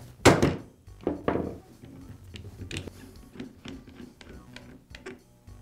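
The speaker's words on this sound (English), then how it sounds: "Then I'll use a rubber mallet to quickly strike the Allen wrench" A rubber mallet striking an Allen wrench held in a DeWALT drill chuck: two loud, dull thunks close together at the start, followed by softer, quieter knocks and handling clatter.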